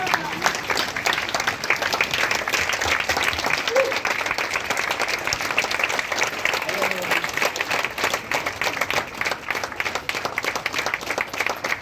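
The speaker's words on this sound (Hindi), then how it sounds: "एक बार जोरदार तालियां प्लीज मैम के लिए।" Sustained, dense applause from an audience at a Modicare event in Santacruz, Mumbai, honouring someone speaker, steady and loud throughout with cheering voices mixed in.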